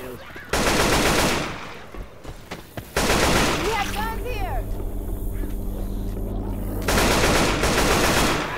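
Gunfire in Left 4 Dead 2 comes as loud, rapid automatic bursts in three separate volleys, and a sustained engine-like hum runs between them.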